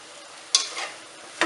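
Ingredients sautéing in a pan for koottanchoru, with mango and tamarind in the mix: a low steady sizzle broken by a few louder scraping stirs, close and without talk.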